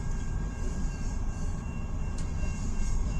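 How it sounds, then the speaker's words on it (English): CN M383 freight train rolling slowly past, a continuous low rumble of heavy railcars with faint high squeals and wheel hiss, steady and fairly near for the whole stretch. "That's a long train. He's going slow."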